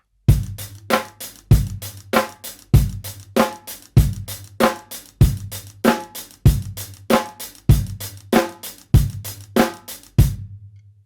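A half-time 16th-note rock drum groove played with Moeller technique, steady loud accented hits about twice per second with quieter strokes between, close and alone with no talk.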